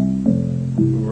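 A Fairlight CMI computer synthesizer sounds a sustained tone built from a hand-drawn harmonic spectrum, a steady buzzy note that shifts pitch briefly twice, heard alone and clearly.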